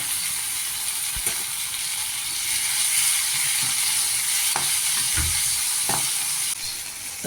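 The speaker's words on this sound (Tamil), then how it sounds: "அதில் 2 பச்சை மிளகாய் கட் பண்ணி போட்டு அதையும் சேர்த்து வதக்கிக்கலாம்" Green chillies and tomatoes sautéing in a pan for a tomato side dish, a continuous sizzle and hiss with occasional stirring scrapes and clinks, no talk.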